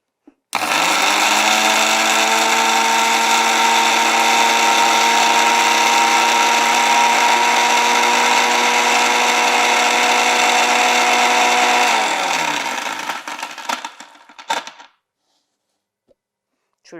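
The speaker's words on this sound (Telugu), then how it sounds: "ఫస్ట్ వాటర్ ఏం యాడ్ చేయకుండా ఒకసారి గ్రైండర్ పట్టుకోండి." A mixer grinder runs dry on a handful of neem leaves with no water added, a loud steady motor whine held for about eleven seconds, then winding down and stopping.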